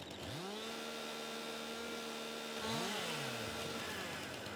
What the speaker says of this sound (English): I'm going to use the chainsaw to take out the stump